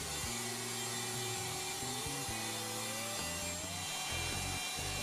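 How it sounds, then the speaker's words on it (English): A router cutting a wooden dovetail pinboard clamped in a jig, a steady loud whine with shifting low tones as the bit moves through the wood, continuous throughout. "With the jig clamped in place, the pinboard is routed."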